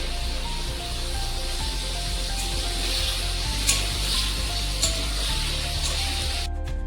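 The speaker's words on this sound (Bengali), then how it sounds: "পনিরগুলোকে হালকা করে ভেজে নিয়েছি" Paneer cubes frying in a pan with salt and turmeric give a steady, close sizzle that runs throughout, with occasional soft stirring scrapes and no voices.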